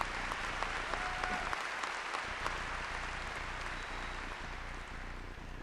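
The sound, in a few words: audience applause for the commencement orchestra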